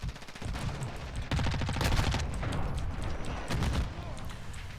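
A Lachmann Sub SMG fires in a video game, producing rapid, close automatic bursts in quick succession with brief gaps and a steady rattling rhythm.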